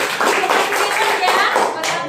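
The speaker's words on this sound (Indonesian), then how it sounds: "Kita kasih aplaus dulu buat Anggun" A small classroom group claps for a student, with dense, close applause lasting about two seconds while voices mix in.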